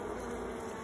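After smoking, honeybees in a hive keep up a continuous, even hum, moderately loud and close, with no voices over it.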